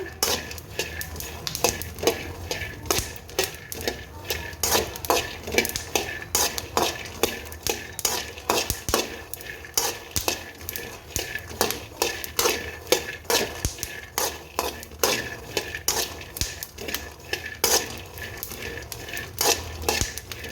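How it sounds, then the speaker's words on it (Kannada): Peanuts dry-roasting in a pan while being stirred continuously, a dense rattling scrape of nuts and spoon against metal with a light sizzle, steady and close for the whole stretch. "ಚೆನ್ನಾಗಿ ಹುರಿತಾ ಇದ್ದಾವೆ ಶೇಂಗಾ"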